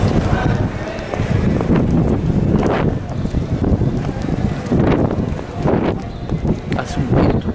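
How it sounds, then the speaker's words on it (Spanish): Strong gusty wind buffets the microphone outdoors on a pedestrian street in Lima's historic center, a loud continuous roar with surges, and a voice is faintly audible underneath. "Hace un viento muy fuerte."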